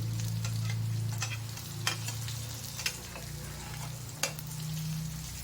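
Flattened rice fritters (aval vadai) fry steadily in hot oil in a pan, giving a continuous soft sizzle with a low hum beneath and a few sharp clicks and pops scattered through.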